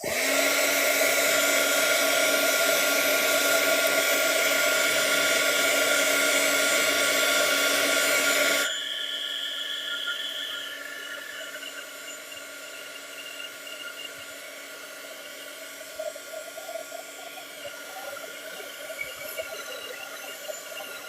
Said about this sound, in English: let me dry this area real quick